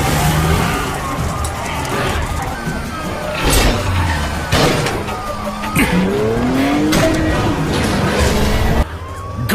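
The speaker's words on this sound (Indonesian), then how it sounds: "Ravana yang mengendarai mobilnya lebih cepat meninggalkan Ram." Cars speeding through a film chase scene after a shootout, engines roaring loudly and continuously with tire squeals and skids, dense action-movie sound mixed with music and effects.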